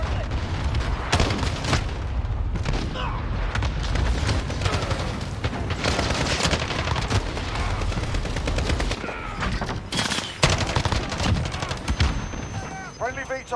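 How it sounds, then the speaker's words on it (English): Heavy video-game combat with continuous machine-gun fire, explosive booms and artillery-like blasts from an allied cluster strike, loud and dense throughout, with voices talking over the battle. "Allied cluster strike inbound. Check your fire!"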